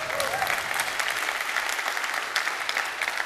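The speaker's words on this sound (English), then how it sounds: "Let's have a round of applause for WSP." A conference audience at PyCon AU 2023 applauds a sponsor, dense sustained clapping from a large crowd in a hall, even and continuous for the whole stretch.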